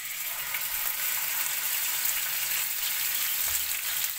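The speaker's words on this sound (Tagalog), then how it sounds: "ito na ang ating isda at bagay natin siyang iprito sa konting mantika" Fish frying in a small amount of oil gives a steady, bright sizzle that crackles continuously and evenly, close up, with no voices.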